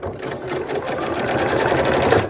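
A sewing machine runs steadily, top stitching a denim quilt block made from fabric scraps, its rapid needle chatter loud and close, continuous for the whole stretch with no voices.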